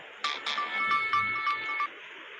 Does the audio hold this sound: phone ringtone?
yes